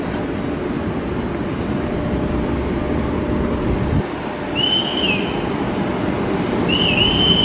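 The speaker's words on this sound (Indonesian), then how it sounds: "Ada kereta dari sana, guys." A steady rumbling roar of a train going past nearby at Sant Pol de Mar, Spain, with a couple of high whistle-like tones near the end.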